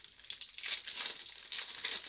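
Crinkly plastic wrapper being torn and peeled off a new deck of playing cards, close up, in two bursts of crackling with a brief lull between them.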